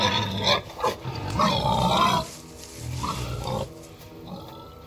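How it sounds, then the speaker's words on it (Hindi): A pig in the horror video game The Quarry grunts and snorts in a series of short, rough bursts, close and fairly loud, with pauses between calls and no talk over them. "सुअर"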